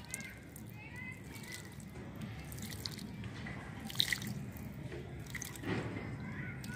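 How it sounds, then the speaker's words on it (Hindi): Water is poured lightly into a potted plant in a garden pot, giving soft dripping and splashing over a steady faint background, with a couple of slightly louder splashes. "पानी आप डाल दीजिए।"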